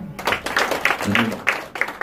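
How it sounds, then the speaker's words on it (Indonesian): A church congregation claps in praise to God after a sermon, a brief, moderately loud patter of hands with voices mixed in. "Tepuk tangan bagi Tuhan."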